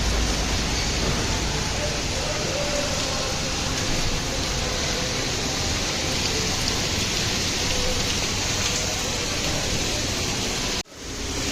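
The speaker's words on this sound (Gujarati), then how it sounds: "સરસ મજાનો વરસાદ ચાલુ થયો છે" Heavy rain pours steadily during a storm in Rajkot, a dense, loud, continuous roar of drops that cuts off abruptly near the end.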